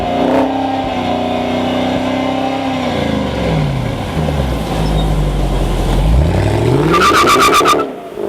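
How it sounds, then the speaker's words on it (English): A Jaguar XKR V8 engine revs hard, rising and falling in pitch, then dips low before climbing again, loud and close, ending in a sharp burst of rapid crackles. "the V8 in this Jaguar XKR makes better sounds than I have heard out of a British sports car in a long, long time"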